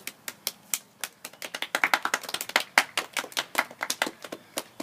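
Brisk hand clapping from a small group at a safety talk, sharp claps in a quick uneven rhythm that swells in the middle and thins toward the end, with no talking.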